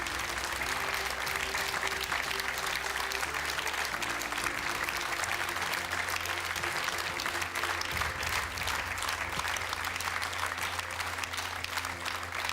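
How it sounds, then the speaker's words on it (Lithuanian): A standing audience at an award ceremony claps continuously, a dense, loud, even wash of applause from a large crowd with no pause. "jūs verti kiekvieno iš mūsų aplodismento ir padėkos"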